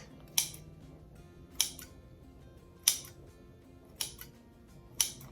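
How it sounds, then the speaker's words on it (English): Kitchen shears snipping cranberry pecan bread dough dusted with flour, five crisp close cuts at roughly one-second intervals over a quiet room, no talk. "I will go ahead and use kitchen shears, and you can actually cut"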